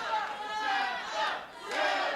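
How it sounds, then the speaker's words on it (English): A wrestling crowd at an FSW event cheers and chants in rising and falling swells, loud and close, in a short burst of roaring voices. "listen to the crowd"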